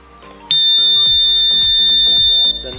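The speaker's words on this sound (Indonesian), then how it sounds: "Dan alarm sirene terus berbunyi" An alert-level alarm siren starts abruptly and sounds continuously as a loud, steady electronic tone, layered over background music with rhythmic stepped notes.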